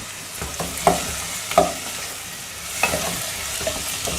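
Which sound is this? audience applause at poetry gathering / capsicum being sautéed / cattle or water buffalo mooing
capsicum being sautéed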